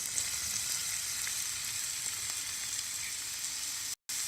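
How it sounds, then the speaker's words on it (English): Chopped onions and garlic frying in a pan, giving a steady, dense hiss of sizzling that runs throughout with a brief dropout near the end. "Now we're adding our chopped onions"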